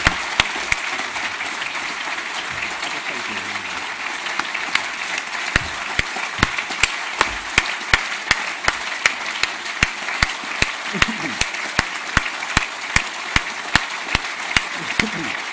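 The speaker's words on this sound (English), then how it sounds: "I think the applause says it all." An audience applauds after a history author's talk, a steady, moderately distant patter of clapping with sharp individual claps cutting through at intervals.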